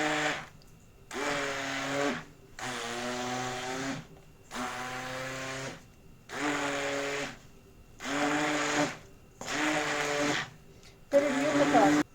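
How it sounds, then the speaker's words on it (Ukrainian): A blender runs in repeated bursts, about six pulses of a few seconds each separated by short pauses, its motor whine loud and close. "Включаємо блендера і перебиваємо"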